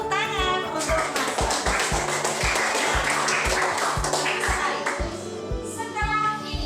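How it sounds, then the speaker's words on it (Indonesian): Classroom applause for a student: brisk, steady clapping from a group of pupils fills the room, with children's voices rising over it near the start and end. "Tepuk tangan untuk Mas"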